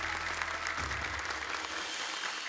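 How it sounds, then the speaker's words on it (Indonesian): A crowd claps steadily at the Hafiz Indonesia Quran memorization competition, a dense, sustained round of applause filling the room, with a low tone fading out early on. "Boleh tepuk tangan untuk Bapak TGB."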